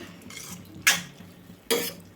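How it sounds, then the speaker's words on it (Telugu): A metal lid clanks twice onto a cooking pot of ridge gourd and tomato curry, two sharp close knocks less than a second apart over a quiet kitchen background. "మూత పెట్టేసుకున్నాము"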